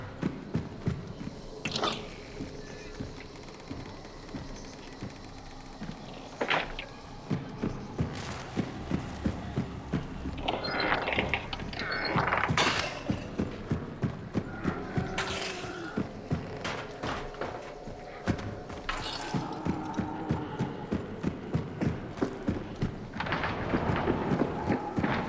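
Horse hooves thud in repeated galloping beats through a swampy bayou in the video game Hunt: Showdown, a rumbling, uneven clatter that swells and fades at moderate distance with heavy low thumps throughout.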